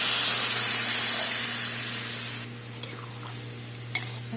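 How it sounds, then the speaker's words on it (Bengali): Hot water poured into a pan of fried and simmered jackfruit curry, a loud steady sizzle and hiss that fades into quieter bubbling with a couple of small clinks. "এখন গরম জল দিয়ে দিলাম।"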